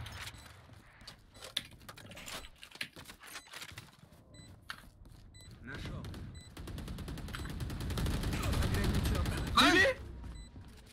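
Gunfire in the tactical shooter Valorant: scattered shots with several tight bursts early, then a rising rumble of game effects and noise, mixed with voices chatting.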